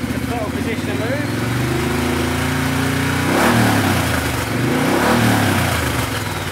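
A motorcycle engine revs as the throttle opens during ECU tuning, its steady idle rising into two swelling surges. The engine is loud and close, with a voice talking over it.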